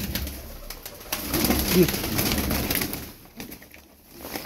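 Milk-white Turkish tumbler pigeons cooing softly near the microphone, low and close, with someone speaking briefly over them and a soft wing flutter.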